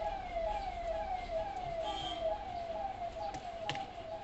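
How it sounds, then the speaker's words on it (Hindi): An ambulance siren wails as it passes, sweeping repeatedly up and down in pitch over faint road traffic, moderately distant and fairly quiet, with no talking. "काफ़ी एम्बुलेंस जा रहा है, क्या बात है।"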